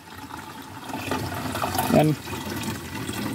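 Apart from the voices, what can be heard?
spring water flowing from a hose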